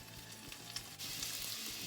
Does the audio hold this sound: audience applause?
no